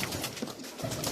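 Pigeons at a breeders' sale of assorted fancy kinds coo softly, a few low calls close by over a steady background hiss with no voices.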